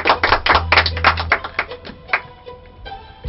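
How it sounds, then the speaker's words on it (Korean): An audience at a fan meeting applauding in a short burst of clapping that thins out into scattered claps and taps. "여러분들 박수 한번 주세요"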